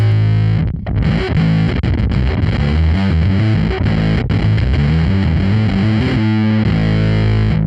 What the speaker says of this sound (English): I also thought that the harmonic distortion really kept the low end of the bass coming through nicely.